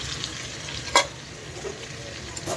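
Potatoes frying in a pan with whole cumin, dried chilli and garam masala, a constant close sizzle broken by a couple of sharp stirring clatters, no talking.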